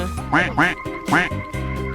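Ducks quack loudly and nearby at a park in a few bursts of harsh, nasal calls, with a steady low hum in the background.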